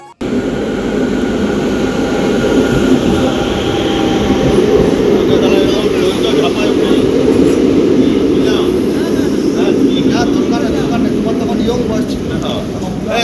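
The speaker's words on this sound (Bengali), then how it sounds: "ওই দেখুন আমাদের ট্রেন চলে এসছে" A train pulling into a station gives a loud, continuous low rumble and roar that holds steady throughout, with some voices in the background.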